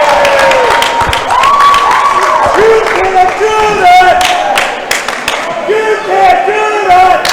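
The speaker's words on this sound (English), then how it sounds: "It's a very good crowd on both sides." A crowd at a girls volleyball game cheering, clapping and shouting loudly and continuously, with high whoops and squeals rising through the noise.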